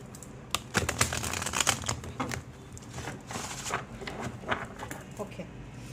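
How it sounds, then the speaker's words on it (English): Tarot cards being shuffled by hand, a run of crisp riffling and slapping bursts close to the listener, irregular and busy with no talking. "I'll shuffle once more."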